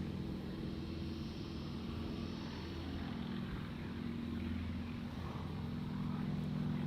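An airplane departing Gold Coast Airport, heard as a steady, loud, broadband engine roar that holds evenly for the whole stretch with no voices.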